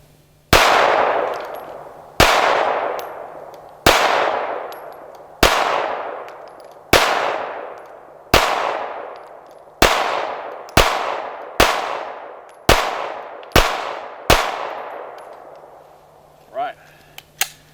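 Sig Sauer P320 subcompact 9mm pistol fires at a zombie target outdoors, a dozen loud single shots spaced one to two seconds apart, each ringing out with a decaying echo.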